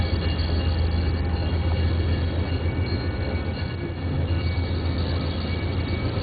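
A Metro-North commuter train passes with a steady, loud low rumble and rolling rail noise throughout, with no speech.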